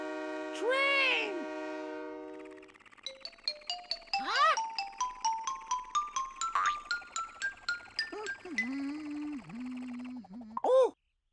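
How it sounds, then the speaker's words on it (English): A cartoon train sound effect plays in an animated children's animal cartoon: a tooting whistle, then a rhythmic series of chugging puffs with rising tones, ending with a wobbly horn-like call and a final toot. "Train!"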